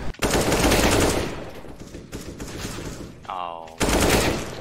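Video-game gunfire, a loud rapid burst of automatic shots that continues in bursts with brief gaps, one short tonal game sound in the middle, and faint talk underneath.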